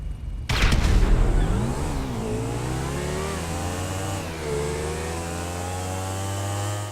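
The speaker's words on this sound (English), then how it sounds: "I'm going to toss a grenade. When it goes off, we go." A grenade blast in Grand Theft Auto V during a drag race between a Pegassi Bati 801 and a Pegassi Oppressor: a sharp, loud bang, followed at once by engines revving hard and climbing in pitch as the bikes launch, then a sustained high drone.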